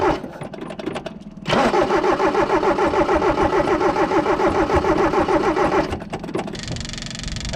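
An old Toyota Hilux with a carburetor, long parked on a mountain, cranks on a booster pack with a loud, steady rhythmic churning for several seconds before it stops.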